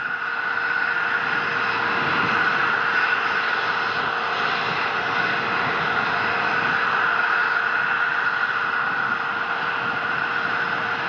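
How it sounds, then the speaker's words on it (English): The first-stage engines of an H-IIB rocket fire during launch, heard as a continuous broad roar with a steady hiss that holds level and distant-sounding for the whole stretch, with no voices. "First stage engines are continuing to fire"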